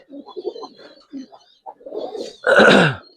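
Giribaz pigeons cooing, a string of soft low coos and murmurs that ends in one louder, fuller coo, close by.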